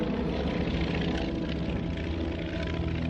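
A propeller airplane engine roars in flight as a steady, loud, close droning hum with rough pulsing texture and no voices.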